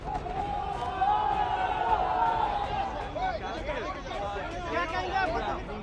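Protest crowd filling Kolkata streets, a dense babble of many voices at a steady level throughout, with a few raised shouts standing out near the end.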